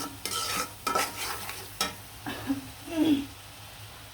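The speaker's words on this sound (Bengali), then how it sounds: "হলুদ জিরা গরম মশলা ধনিয়ার গুঁড়া দিয়ে দিলাম দিয়ে ভালো করে মশলাটা কষিয়ে নিলাম" Turmeric, cumin, garam masala and coriander powder fry in a pan for chicken leg pieces, a soft sizzle broken by several scraping strokes of a spoon stirring the spices.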